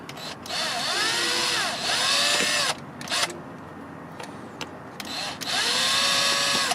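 Power tool on a 1968 Baja Bug axle nut: an electric impact gun revs in rising and falling whirring bursts while the loose nut spins freely, with short pauses and small clicks between the runs.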